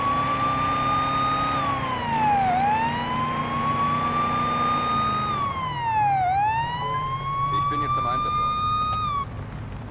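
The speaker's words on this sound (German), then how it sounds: "Die Sirene bloß aus." Police car siren in the game Police Simulator: Patrol Officers, a loud wailing tone that sweeps steadily up and down in long cycles, running continuously close by over low engine rumble with faint talk underneath.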